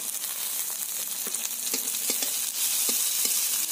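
Onion, garlic and tomato frying in a pan, with a steady sizzle and occasional crackles and stirring clicks.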